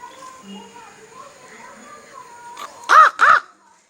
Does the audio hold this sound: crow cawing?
yes